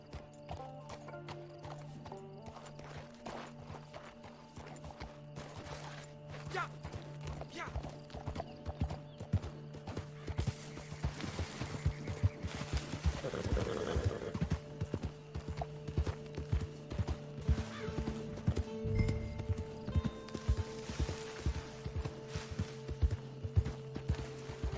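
Hooves clip-clop in a steady gallop as a horse runs through Red Dead Redemption 2, with a brief whinny partway through, continuous under background game music and ambience.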